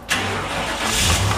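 A car engine with a fault, revved gently at a roadside: a sudden mid-pitched engine note that holds steady and then swells slightly louder near the end, close and without speech.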